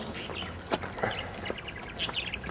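Short bird calls ring out in a city park, several chirps scattered over steady outdoor background noise.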